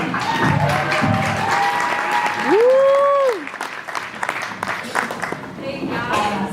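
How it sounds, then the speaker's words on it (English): A crowd at a stand-up comedy show breaks into applause and clapping, a dense, steady patter that holds strong while a voice whoops and speaks over it, then thins slightly. "Let's all start clapping for Miss Madeleine Hamilton, everybody."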